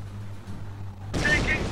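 Gunfire in the Company of Heroes wartime battle breaks out suddenly after a quiet hum, a loud burst of shots and crackling reports carrying on to the end, with faint voices mixed in.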